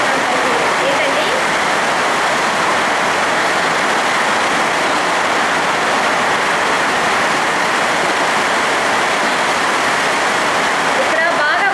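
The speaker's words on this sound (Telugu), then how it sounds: "ఇక్కడ బాగా వర్షం పడుతుంది, సౌండ్ వస్తుంది." Heavy rain pours down in a dense, unbroken roar of broadband hiss, loud and close, holding steady for the whole stretch with no pauses.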